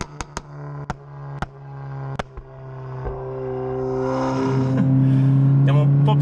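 A Stage 2 tuned Golf 8 R with over 400 horsepower, in race mode: a few sharp clicks give way to the engine revving up, building into a loud, sustained, climbing roar close by.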